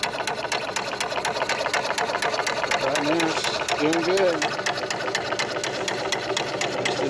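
A high-pressure air compressor fills a 90 cubic inch tank toward 4,500 psi with a steady, close, rapid mechanical chugging, while someone talks briefly over it.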